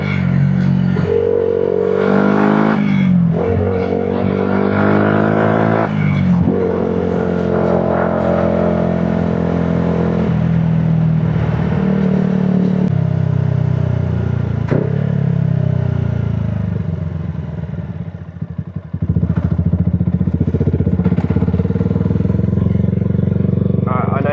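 A Yamaha MT-125 motorcycle ridden through the roads around Totnes, its engine humming and revving steadily and close by for the whole stretch, with a voice talking over it at times.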